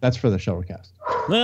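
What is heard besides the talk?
dogs barking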